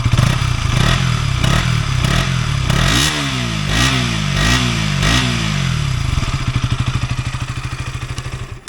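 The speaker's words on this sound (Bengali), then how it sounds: "আর এটা হচ্ছে গাড়ির ইঞ্জিনটা একটু আপনাদেরকে শোনাচ্ছি।" A 2024 KTM 200 BS6 motorcycle engine is loud and close: it idles, then gives a series of sharp rhythmic revs, and settles back into a fast, even idle that fades slightly at the end.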